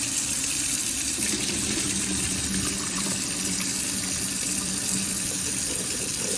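Water from microwave-cooked pasta pouring steadily through a strainer lid into a kitchen sink, a loud, continuous rushing splash with no pauses.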